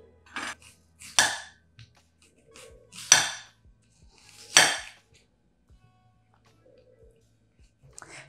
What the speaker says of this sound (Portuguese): Enquanto isso, vou cortar uma cebola.